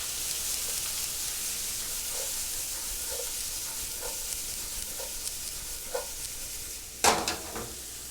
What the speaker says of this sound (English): we're going to cook this down until it's translucent and the onions have softened